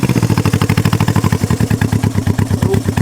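A Honda CB360 motorcycle engine idles close by with a steady, fast rhythmic putter of evenly spaced low pulses throughout, loud and alone with no talk.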